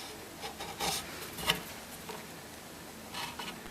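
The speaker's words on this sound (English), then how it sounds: "Go ahead and I bevel it so that it doesn't get chipped off, because this is what comes in contact with the floor." The edge of a wooden sculptural table is beveled by hand, with soft close rasping and rubbing strokes in short bursts and a small knock in between.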